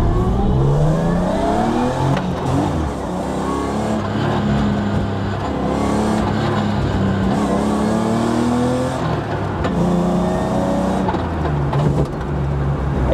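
An old, worn-out car drives along a road, its engine droning and rising and falling in pitch as it shifts and accelerates, heard from inside, loud and continuous with road rumble beneath.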